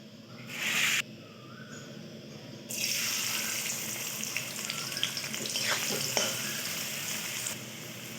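Chopped onion sizzles in hot oil and ghee in a wok, the frying starting after a brief clatter and continuing as a steady crackling hiss with occasional stirring scrapes, no speech.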